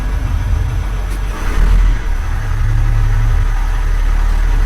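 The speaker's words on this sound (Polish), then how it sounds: "nie będziemy tu dawać wysokich obrotów, bo silnik jest zimny, ale odrobinkę tam niecałe 2000" A cold car engine held at a slightly raised idle, just under 2000 rpm, drones steadily and loudly with a deep low rumble, swelling briefly partway through.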